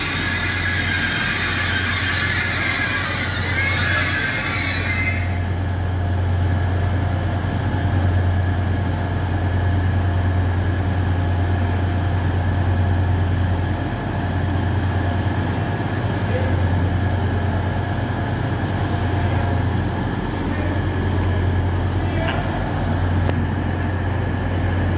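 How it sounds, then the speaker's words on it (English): East Midlands Railway Class 180 diesel train running as a five-car set, with a steady engine rumble and a high whine throughout, a brighter hissing squeal in the first few seconds and a faint brake squeal later, under occasional talk. "I love it the last time we heard these squeaky brakes."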